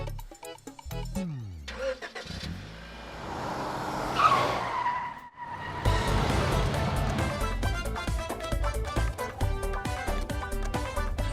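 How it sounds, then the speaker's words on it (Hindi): A car is driven fast with a loud engine roar and screeching, skidding tires. The screech swells to a sharp peak, then gives way to a busy, loud rush of motion. "अरे, गाड़ी चलानी है, उड़ानी नहीं है।"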